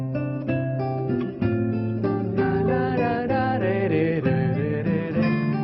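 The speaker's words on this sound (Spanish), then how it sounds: "Está hecha de palo, tiene cuerdas de nylon y suena así." Acoustic guitar made of wood with nylon strings plays a melodic passage with chords and picked notes, close and warm, continuous for several seconds with no voice.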